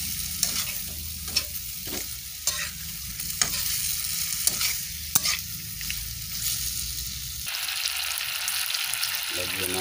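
Pork with chili sizzling in a hot pan, a steady fry hiss broken by sharp scraping and clinking stirs, the sizzle swelling louder near the end.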